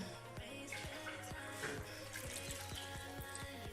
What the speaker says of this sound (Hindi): और अभी हम इसमें 1 कप पानी ऐड कर देंगे।